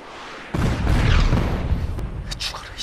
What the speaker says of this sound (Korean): 즉시 포격 요청!